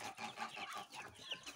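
Chicks and chickens cluck and peep in a yard, a faint, dense, continuous chatter of overlapping calls heard from a little distance.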